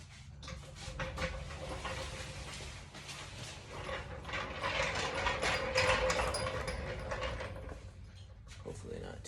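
Mechanical jack being cranked under a 2017 BMW 340ix for a wheel swap, a steady loud run of ratcheting, grinding metal clicks close to the mic, building in intensity midway and continuing throughout.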